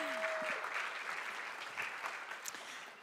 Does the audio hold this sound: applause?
yes